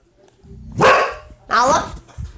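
A pet puppy gives two loud, close barks in quick succession, each one a short harmonic burst, with a faint low murmur underneath.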